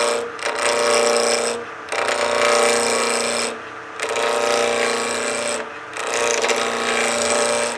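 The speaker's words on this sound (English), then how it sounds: "So let's go ahead and start the lathe." A wood lathe spins at 2,000 RPM while a spindle roughing gouge knocks the corners off a stabilized-material blank for a pizza cutter handle: a loud, continuous scraping whir that dips briefly about every two seconds as the cut pauses.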